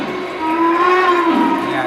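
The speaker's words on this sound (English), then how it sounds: "the hooter whistle is awesome" A Y6 model train's hooter whistle sounds as a steady, tonal, horn-like hoot held for well over a second, fairly loud and close on a model railway layout.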